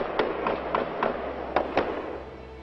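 A string of sharp gunshots from a hidden gunman firing on police officers, about six cracks spaced unevenly over a couple of seconds, sounding somewhat distant and slightly muffled.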